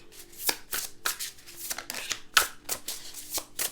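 Tarot cards riffled and shuffled, then laid out one by one in a run of quick, close papery flicks and slaps with brief pauses between bursts.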